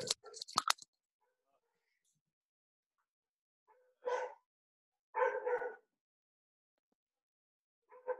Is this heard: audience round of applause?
no